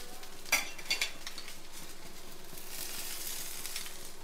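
A dosa brushed with butter sizzles softly on a hot pan, a low continuous hiss with a few faint utensil scrapes and taps near the start.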